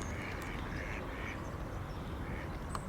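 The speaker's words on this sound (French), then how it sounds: "Et là, il y a du canard." Ducks quacking in the Douro valley near Lamego, a few raspy calls rising out of a steady outdoor hiss and distant traffic rumble, moderately far and faint.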